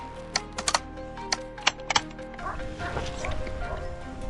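Hunting dogs bark in sharp, separate yelps while tracking a wild boar in swampy terrain, about seven quick barks in the first two seconds, then rustling and movement noise with a voice under them.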